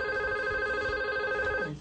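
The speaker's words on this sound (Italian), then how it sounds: "Ma che è il telefono mio?" A mobile phone ringing nearby, a steady electronic ring tone heard clearly and fairly loud for nearly two seconds before cutting off.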